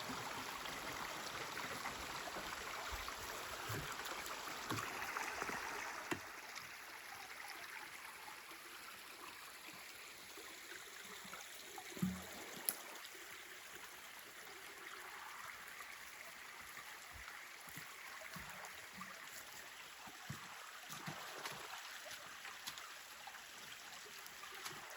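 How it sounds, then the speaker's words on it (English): An off-grid creek swollen after rain runs with a continuous, steady rush and trickle of water, close and even throughout, with occasional small knocks and no speech. "the creek is running not too bad"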